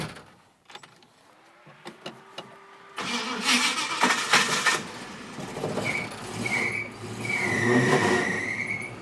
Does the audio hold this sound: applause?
no